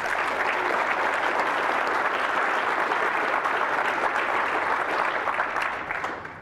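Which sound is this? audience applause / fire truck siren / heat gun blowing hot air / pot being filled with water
audience applause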